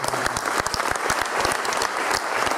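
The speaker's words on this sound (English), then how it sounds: "So really a big applause to all these." Applause from the audience at a business talk event, dense close clapping with sharp individual claps, steady for a couple of seconds.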